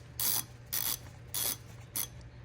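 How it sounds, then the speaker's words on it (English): Socket wrench ratcheting on the oil filter housing of a Mk6.5 Jetta GLI DSG, four short clicking bursts in an even rhythm, close up and fairly quiet, with nothing else heard. "Here at the oil filter housing with the provided socket, and we're gonna crack this guy loose."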